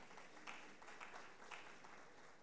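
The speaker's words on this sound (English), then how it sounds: "Please, let's give him a round of applause, please." Faint audience clapping at a certification ceremony, a short patter of hands with a few louder claps standing out, distant and thin.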